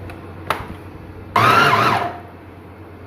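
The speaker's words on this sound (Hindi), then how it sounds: "अपने इसमें मिक्सर में डाला और ये हम पीस के आपको दिखाते हैं" A mixer grinder whirs loudly for about a second while blending shami kabab ingredients, after a brief click, then fades into quiet room tone.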